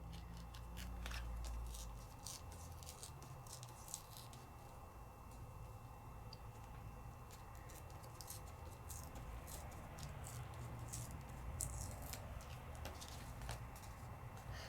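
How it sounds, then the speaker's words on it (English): Washi tape paper is torn in quiet, close, crackly rips and small scratchy bursts, scattered irregularly over a low background hiss. "That I could change the look of something by just tearing the paper?"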